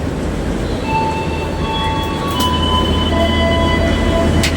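Steady rumble of a moving Yogyakarta-bound train heard from inside a carriage, with continuous low rolling noise, faint thin wheel squeals and rail tones drifting above, no voices.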